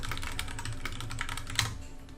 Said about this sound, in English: don't mind my keyboard or any of this noise